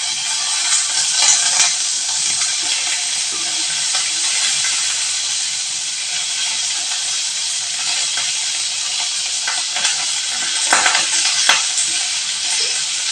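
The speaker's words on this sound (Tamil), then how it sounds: "இப்போ வெங்காயம் நல்லா வதக்கிட்டுங்க கருவேப்பிலை இருந்தால் கருவேப்பிலை போட்டுக்குங்க" Onions and curry leaves sautéing in a pan for a mango kuzhambu, a loud, steady close sizzle and hiss with occasional scraping stirs throughout, no voices.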